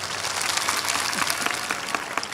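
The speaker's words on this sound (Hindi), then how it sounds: "जो खुश हैं वो ताड़ी बजाओ" A congregation at a Christian worship gathering claps together in a dense, continuous burst of many hands, loud and close throughout.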